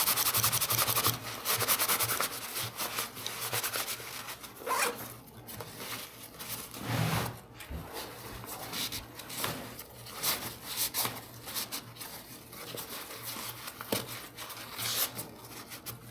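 A zipper being wiped clean with a paper towel, giving steady scratchy rubbing and rustling strokes at close range for the full length, with no voices.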